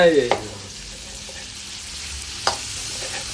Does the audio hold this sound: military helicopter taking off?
no